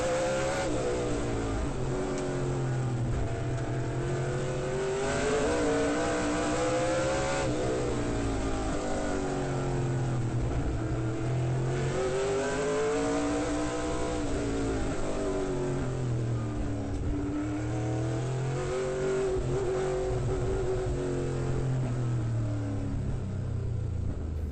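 SRL Southwest Tour race cars roar through the field at Roseville, several engines overlapping in a loud continuous rumble, rising and falling in pitch as they accelerate and pass, with no talk.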